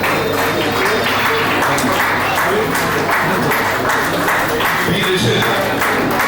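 Audience at a Rotary Club prize distribution claps for school prize winners, a steady dense applause throughout while a voice reads out a name over it.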